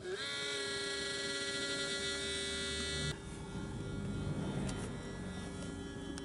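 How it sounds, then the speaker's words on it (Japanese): A battery charger running off a truck's cigarette-lighter socket in a sub-battery setup hums with a steady tonal whine, then shifts after a few seconds to a broader, noisier buzz as it switches on. "充電器の電源が入ります。"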